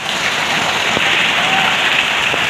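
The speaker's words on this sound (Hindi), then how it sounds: "ये देखें इतनी तेज़ बारिश हो रही है" Heavy rain pours down steadily and loudly, a dense continuous hiss of drops striking surfaces close by, with no pause across the short stretch.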